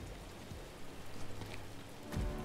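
Video game rain hisses steadily throughout, with a few soft thuds and a low rumble near the end.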